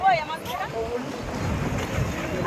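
Wind blows steadily at the Digha Mohana estuary where river meets sea, a rushing, buffeting noise across the microphone, with faint voices talking beneath it.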